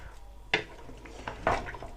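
Cooked beef being transferred from a pressure cooker into a second karahi pan: two distinct metallic clanks of a spoon or utensil against the pan, a moderate kitchen clatter over a quiet background.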